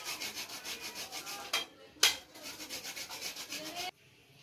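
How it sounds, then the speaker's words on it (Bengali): Peeled ginger is rubbed back and forth over a grater in quick, rhythmic rasping strokes, close and fairly quiet, with a couple of sharper scrapes before the motion stops. "এই যে আমার আদাটা ঘষা হয়ে গেল"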